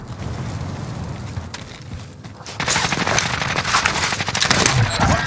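Heavy automatic gunfire in Call of Duty: Modern Warfare, moderate rumbling shots at first, then a sudden loud, dense burst of rapid machine-gun fire that continues to the end.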